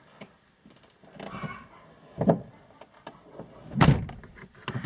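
A Peugeot Partner 2.0 HDI door with a faulty opening limiter swings open, producing two distinct heavy clunks a second or so apart amid light creaking and handling noise, recorded close by.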